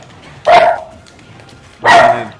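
West Highland Terriers bark indoors, two loud, sharp barks about a second and a half apart, close to the microphone with a quiet room behind.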